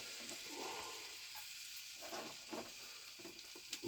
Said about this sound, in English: Let's go ahead and put this raw garlic in there.